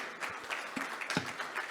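Applause at the close of a hybrid talk on BIM implementation for infrastructure paving: a short burst of scattered clapping from the audience, fairly faint and uneven, with no voices over it.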